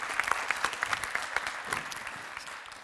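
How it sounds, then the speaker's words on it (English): Audience applause at a WordCamp Stockholm talk on redesigning the WordPress dashboard, a brief burst of distinct claps from a modest crowd that thins and fades toward the end. "I think you're worth a round of applause just for that"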